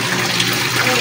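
Water pours steadily and loudly during a hot-day family bath, making a continuous close splashing rush with no pauses, and a faint voice may sit underneath.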